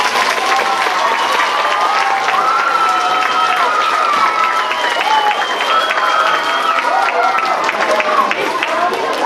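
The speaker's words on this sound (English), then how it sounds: "So let's give them one more round of applause." Students applaud veterans at a school Veterans Day assembly, sustained clapping filling the room with cheers and shouts mixed in, loud and steady throughout.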